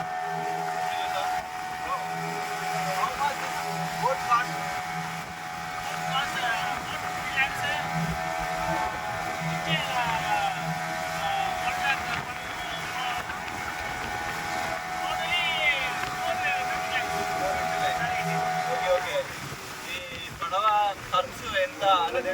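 A motorboat rides out near Puducherry where a river meets the sea, its engine holding a steady droning hum with wind and water rush throughout while people talk over it.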